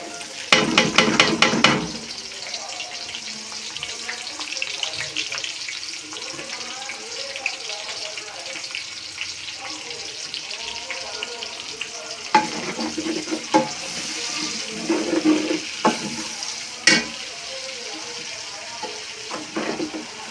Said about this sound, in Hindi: ये जो ऑयल हमारे पास बचा है हम इसमें प्याज ऐड करेंगे।